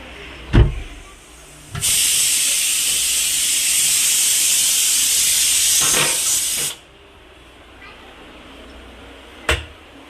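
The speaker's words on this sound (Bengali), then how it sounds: "আলুটাকে একটু ভেজে নেবো" Potatoes dropped into hot oil for a Bengali meat-and-potato lunch give a loud, steady hiss lasting about five seconds, then it cuts off, with a few sharp clatters before and after.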